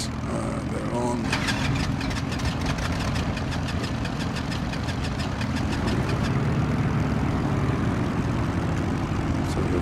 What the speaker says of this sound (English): So we've got a good start on the left engine.